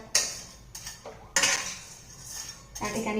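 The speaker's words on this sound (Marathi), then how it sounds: "त्या पॅनमध्ये भाजून घेणार आहे" Vermicelli is roasted in a pan over a low flame while a metal spoon repeatedly scrapes and clinks against it in short irregular bursts, with a voice speaking briefly.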